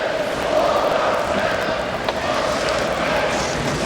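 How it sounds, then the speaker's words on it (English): A hockey arena crowd roars after a Badgers goal against Colorado College, a dense, sustained wash of cheering heard from within the stands, with a brief sharp knock partway through. "And listen to this crowd"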